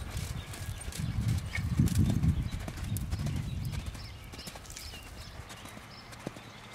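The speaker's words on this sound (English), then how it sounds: "Lift that left rein and canter left. Just canter down the rail." A horse canters down the rail of a riding arena during a lesson, hooves thudding in a quick rolling three-beat rhythm, close and clear, with no talking.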